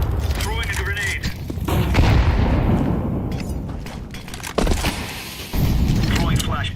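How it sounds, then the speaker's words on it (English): A grenade blast and combat noise in Counter-Strike 2, heavy booming and gunfire filling the scene with loud, sustained rumble and sharp bursts layered over game sounds. "Throwing a grenade."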